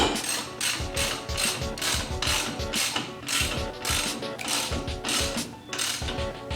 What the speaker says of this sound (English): you'll see the 14mm flex handle. So basically I'm just going to run it in over here.